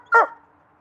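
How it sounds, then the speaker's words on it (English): Apollo, a farm dog, gives one short, sharp bark up close, and the clip falls quiet right after it. "Apollo, who are you barking at?"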